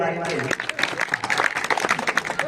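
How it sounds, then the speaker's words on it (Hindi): A village audience at a magic show on Mahashivratri breaks into applause, scattered, uneven claps rising quickly after a voice fades out at the start, fairly close and lively. "तालियां हो जाएगी"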